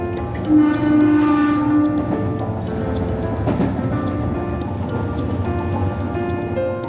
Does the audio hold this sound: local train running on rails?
yes